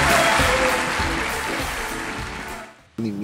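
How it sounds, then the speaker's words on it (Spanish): A live comedy show's audience gives a loud, dense wash of applause and cheering at the end of the show, which cuts off abruptly near the end. "Solamente quiero que den un fuerte aplauso porque aquí termina Hablando Huevas"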